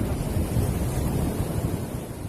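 Waves wash in a continuous, rushing roar along a coal-spill-polluted shoreline in Meruboh, Aceh Barat, with heavy wind buffeting the microphone and no voices.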